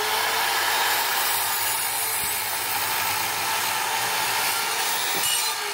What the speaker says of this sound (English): So using the miter saw, we need to make three cuts of 2705.